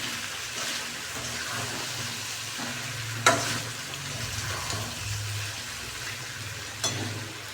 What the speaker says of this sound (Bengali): আবারও লবণটা দিয়ে নাড়াচাড়া করে নিচ্ছি কিছুক্ষণ